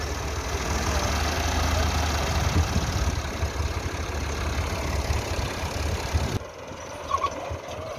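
A big tractor engine idles with a steady low, throbbing drone that cuts abruptly near the end, leaving quieter ambient sound behind.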